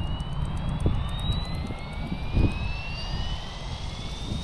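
SAB Goblin 380 KSE RC helicopter flying at cruising rotor speed, a steady whining turbine-like tone with rising pitch sweeps over broad low rumble, continuous and fairly loud throughout with no talk.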